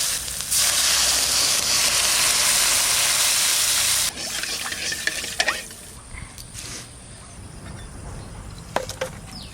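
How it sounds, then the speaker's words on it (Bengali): Water poured into a pan of fried spice paste with ginger paste for a river fish curry bursts into a loud, steady sizzle for about four seconds, then settles into quieter simmering with a few sharp utensil clinks. "মশলা কষানো হয়ে গেছে সব শেষে দেবো আদা বাটা এবার জল দিয়ে দেবো"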